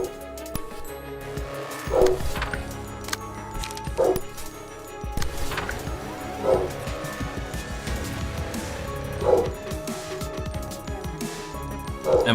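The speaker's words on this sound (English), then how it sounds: "And the dogs are barking." Dogs barking in a Library of Ruina mod battle, repeated barks every couple of seconds at moderate loudness over dense game music and combat sounds.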